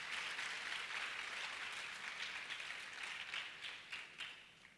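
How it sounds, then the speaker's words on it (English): Audience at a spoken word quarterfinal contest clapping for themselves, a soft, even wash of many hands from a distance that gradually thins toward the end, with no talking. "So let's clap for ourselves"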